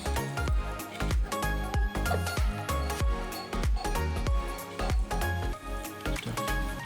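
Wet squishing and squelching from hands working a thick, salted fish marinade for frying, in a steady, repeated rhythm of close, soft slaps.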